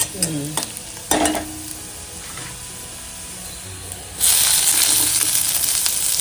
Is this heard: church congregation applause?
no